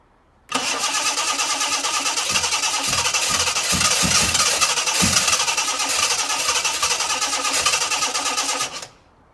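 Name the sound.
Ford Capri car engine starting up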